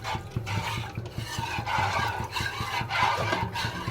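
Salted water for chicken biryani is stirred in a pot, giving a steady swishing and sloshing with regular soft knocks of the spoon against the pot, close and continuous.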